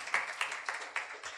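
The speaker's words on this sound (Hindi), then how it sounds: "ताली बजाएंगे" Audience in a Hindi church service clapping in applause, a short burst of rhythmic, moderately quiet handclaps with regular accents, no voices over it.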